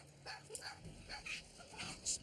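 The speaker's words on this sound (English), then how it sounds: "Cesar takes the couple to meet his personal dogs, Junior and Alfie." Dogs give short yips, whimpers and soft barks in quick, irregular bursts, fairly faint and close, without clear speech.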